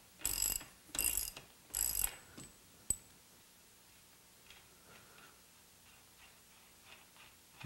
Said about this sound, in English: Now we can go ahead and loosen our axle nut.